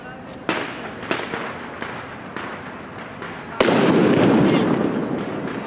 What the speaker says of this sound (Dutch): Als er dan een knal is, helemaal mooi meegenomen.